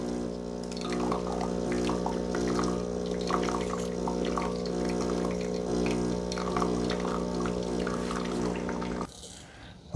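A Ninja Luxe Cafe ES601 espresso machine brewing coffee: a steady pump hum with layered tones and liquid trickling, continuous and close, stopping abruptly near the end.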